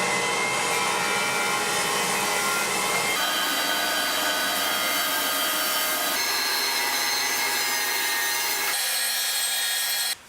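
A jointer squares the edge of a piece of lumber against the fence, a continuous whirring cut with tonal hum that shifts in steps as the board feeds through, then cuts off abruptly at the end.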